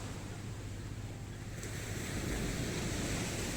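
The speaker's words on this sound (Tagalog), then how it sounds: "Pero medyo malakas yung alon." Heavy ocean surf roars steadily up close at Diniwid Beach, Boracay, with strong waves breaking and wind buffeting the microphone, swelling slightly louder toward the end.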